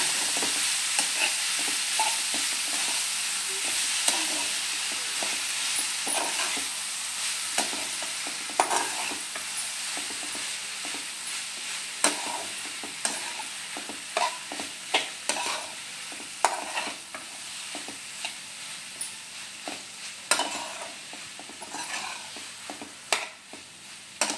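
Grated sweet potato is stirred in a frying pan for a fasting-day khees, with a steady low sizzle under irregular scraping strokes that grow sharper and more frequent toward the end; no one speaks.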